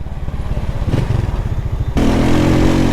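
Loud motorcycle riding on a highway at night, with a rumbling, pulsing engine close by that builds into a stronger, steadier roar mixed with wind rush.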